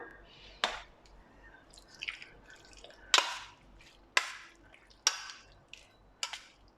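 Fish sauce dripping and splashing from a spoon onto long strips of pork belly for marinating, a series of about six separate wet drips and splats, close and fairly quiet.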